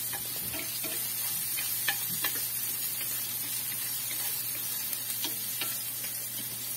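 Onions sautéing in margarine and a little oil in a pan, a steady soft sizzle with scattered light clicks and taps of stirring, fairly quiet and without talk.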